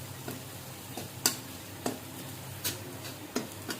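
Garlic fries gently in oil, a quiet, even sizzle with a few soft clinks and scrapes of a spatula at regular intervals.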